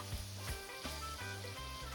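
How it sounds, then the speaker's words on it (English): Tomato searing in a hot pot for a steamed fish with coconut milk and okra dish, giving a steady, soft sizzle and frying hiss throughout with no voices. "let the tomato kind of sear as well"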